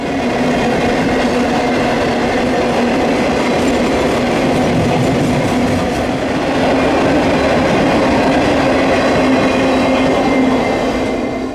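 A CN freight train hauled by GE C40-8 locomotives rolls past close by, with a loud, continuous rumble of wheels and railcars and a steady clatter throughout, no voices heard.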